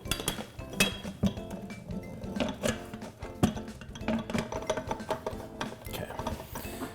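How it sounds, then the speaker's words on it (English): Metal canister being set and turned into the base of a White Mountain ice cream maker, lined up on a notch over a metal spindle, giving repeated close clinks, scrapes and ratcheting knocks of metal on metal. "So add the canister. There's a little notch at the bottom."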